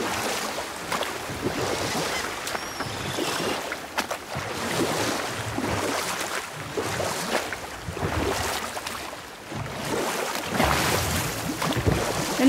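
Rowing a boat across open water in God of War: steady wash of waves and water lapping against the hull with wind, rising and falling in slow surges, no voices.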